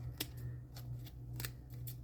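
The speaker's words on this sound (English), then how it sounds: "you can clean those up just by taking your scissors" Scissors snip through the edges of small handmade notebook pages, a few sharp, close cuts spaced irregularly over a low steady hum.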